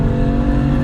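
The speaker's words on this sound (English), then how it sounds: "Could turn the exhaust down a little quieter, but why would you? In loud mode, it is obnoxious" BMW F80 M3 with exhaust set to loud mode, a brief, steady loud engine drone with no voices.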